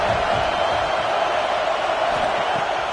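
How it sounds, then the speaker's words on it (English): Stadium crowd in an NCAA college football video game, Alabama against Mizzou, gives off a dense, steady roar of noise on third down, loud and unbroken, with no other sounds. "The Tide crowd rolling noise down on the Saban field on third down."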